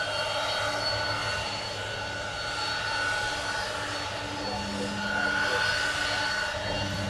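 A Boeing 717 airliner departing off the reef runway at Honolulu, heard as a steady distant jet engine roar that swells slightly, continuous throughout without speech.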